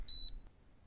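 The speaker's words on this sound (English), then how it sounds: "sweep the inside of the bore until the gauge beeps" TESA-HITE height gauge giving a short, high electronic beep as its probe captures the bore point, clear and close in an otherwise quiet room.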